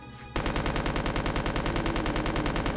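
Rapid continuous SMG fire in Resident Evil 2, a loud steady stream of shots beginning abruptly after a brief quieter moment and running without pause.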